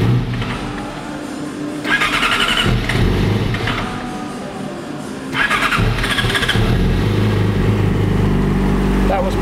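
A fuel-injected 2008 Yamaha YZF-R6 motorcycle engine cranking and starting hard after the throttle was bumped, loud and close, with a rough idle and two surges of revving.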